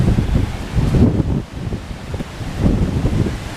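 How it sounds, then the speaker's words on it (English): Strong wind in the aftermath of Hurricane Irma roars and buffets outdoors in loud rolling gusts. It eases briefly in the middle before surging back. "Still pretty breezy out here."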